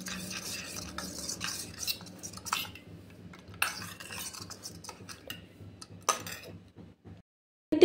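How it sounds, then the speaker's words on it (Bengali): Spice powder mixed with water into a paste for a fish curry, heard as a spoon scraping and clinking against a small bowl in quick irregular bursts with brief pauses, close and moderately quiet. "তো এটা একটু আমি জল দিয়ে গুলে নেব মশলাটা"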